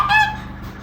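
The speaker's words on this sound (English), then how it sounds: "So this one, they are Geese." A single short honking goose call, bright and nasal, at the very start in a wildlife park, then fading into quiet background.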